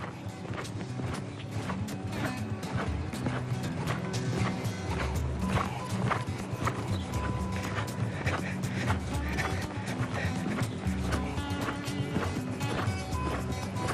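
Cantering horse working on counter-canter and correct-lead changes in a riding lesson, hoofbeats thudding in a steady three-beat rhythm throughout, close and fairly loud against a busy background.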